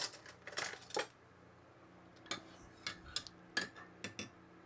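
Spoon stirring cream into a cup of leftover coffee, light metallic clinks and taps against the cup in short scattered bursts, close and fairly quiet.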